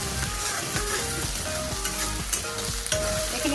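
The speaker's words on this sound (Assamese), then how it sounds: "এইখিনি মই অকণমান ৰঙচুৱাকৈ এতিয়া ভাজি ল'ম।" Green chillies sizzle and crackle in hot oil in a pan while an egg curry is cooked, a dense steady frying hiss with occasional stirring scrapes, close and fairly loud throughout.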